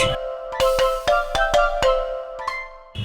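A phone ringtone plays loudly and alone, a rapid series of bright electronic tones repeating in a quick rhythm.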